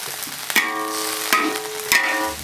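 Food tossed and stirred in a wok on a stone-propped stove, with three sharp metallic clanks that ring briefly over a steady low sizzle, heard close with no talking.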